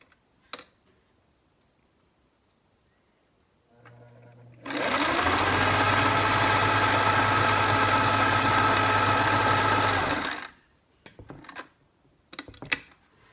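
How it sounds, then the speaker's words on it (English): An older sewing machine stitches plaid and red fleece quilt squares together in one steady, loud run of about six seconds, with quiet handling clicks before and after. "I'm just gonna sew down, and then I'm open them up and do a full square"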